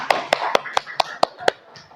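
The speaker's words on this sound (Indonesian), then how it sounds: "Beri tepuk tangan untuk kelompok 2." A class claps in unison for a group of students, about eight crisp, evenly spaced claps in a steady rhythm, close and fairly loud in a quiet room.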